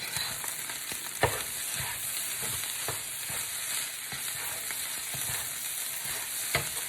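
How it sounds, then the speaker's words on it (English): Rice for fried rice frying in a pan, giving a loud continuous sizzle with scattered stirring scrapes and knocks, heard alone without voices. "You can see a little bit how that rice is starting to fry up and brown."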